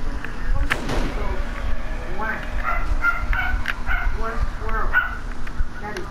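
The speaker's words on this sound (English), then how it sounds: "Another dog over here." Dogs in the survival game 7 Days to Die bark, yip and snarl in repeated short bursts as they attack, close and fairly loud, with a voice talking over them.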